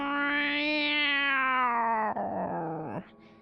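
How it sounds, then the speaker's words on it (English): A single loud, drawn-out cat meow with rich harmonics, rising slightly and then sliding down into a strained, wavering cry that breaks off near the end, heard close and alone. "I heard a loud meowing sound like,"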